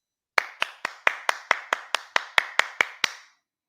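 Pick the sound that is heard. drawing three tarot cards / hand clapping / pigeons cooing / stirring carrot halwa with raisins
hand clapping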